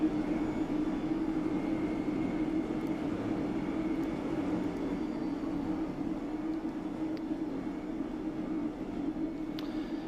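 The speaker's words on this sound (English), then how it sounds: "Quite a noisy train" A London Underground Bakerloo line train runs in Train Sim World 2, filling the whole stretch with a loud, steady rumbling roar and a faint high whine on top, with no break or voice.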